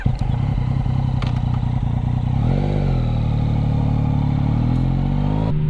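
A Yamaha MT-09 motorcycle engine runs loud and close, with a throttle blip rising and falling in pitch during a downshift while riding.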